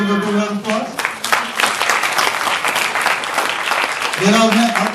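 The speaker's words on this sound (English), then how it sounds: "let's give her a big round of applause" Applause from an audience at a health justice forum, a burst of clapping under and between voices, with talk at the start and end.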